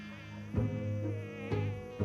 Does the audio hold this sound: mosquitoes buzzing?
yes